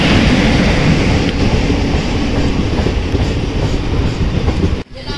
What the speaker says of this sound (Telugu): ఇగో స్టేషన్ మధ్యలో ఆడ ఒక ట్రైన్ పోతుంది